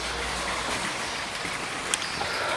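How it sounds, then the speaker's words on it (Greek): Light rain with scattered drops falling around an attic balcony, a steady soft hiss of close patter with one brighter drop standing out near the end. "Μισό λεπτό γιατί ρίχνουν κάτι σταγόνες."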